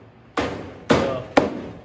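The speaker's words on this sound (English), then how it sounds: "Got a rubber hammer here." A rubber hammer strikes thick, heavy-duty hardware cloth three times, spaced a little under a second apart. Each blow is a sharp, ringing metallic smack with a short rattling decay, heard close up with no talk over it.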